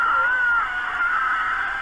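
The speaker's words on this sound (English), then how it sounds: "He's crying and screaming." Squidward, a cartoon character in a creepypasta, cries and screams in one long, wavering, high wail with no break.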